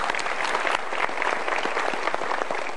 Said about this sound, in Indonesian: Super, kita berikan tepuk tangan sekali lagi.